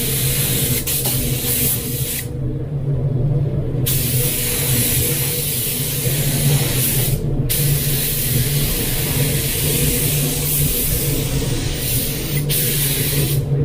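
Spray gun laying a light dust coat of paint inside a paint booth: a loud, steady hiss of atomized spray with a few brief pauses where the trigger releases, then resumes.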